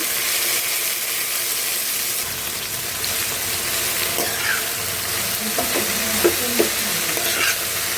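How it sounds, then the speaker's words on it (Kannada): Half a kilo of finely chopped okra stir-frying in oil with seasoning, a dense steady sizzle overlaid by scraping stirs and a few clinks of the spatula against the pan; no one speaks. "ಎಣ್ಣೆಯಲ್ಲೇ ಬೆಂಡೆಕಾಯಿ ಚೆನ್ನಾಗಿ ಫ್ರೈ ಆಗಬೇಕು"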